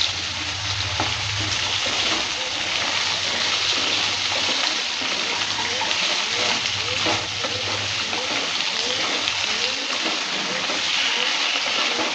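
Cut elephant foot yam frying in a pan, a dense, continuous sizzle heard up close with occasional stirring scrapes and a low hum underneath, no voices over it.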